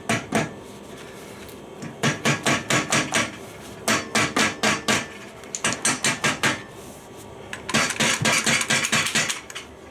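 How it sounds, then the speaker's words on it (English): Repeated hammer taps on a stuck bolt while dismantling a Yamaha Virago 250 motorcycle, coming in quick bursts of sharp metallic strikes, close and loud, with a denser run of rapid blows near the end. "I just want to give this a bit of a tap because that's not moving at all"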